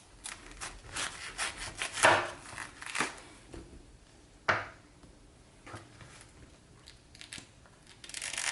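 Knife cutting through a banana flower, heard as a series of close scraping, slicing and chopping sounds with irregular sharp strokes and quieter rubbing between them.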